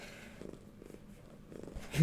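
A cat purrs softly and close by, a low steady rumble in short pulsing bursts, with faint breathing and room noise around it.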